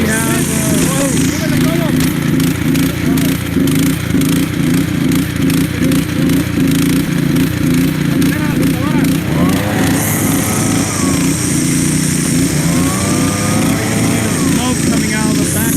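A gas-powered leaf blower runs loudly and continuously close by, its buzzing two-stroke engine droning throughout with a few shifts in pitch as the throttle changes, while a person talks over it.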